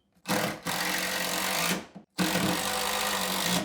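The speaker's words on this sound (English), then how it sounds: "While I'm holding it, I'm going to drive my screws." Power drill driving screws into a block during a 1970s bathroom renovation, two sustained loud whirring bursts with a short pause between, no talking.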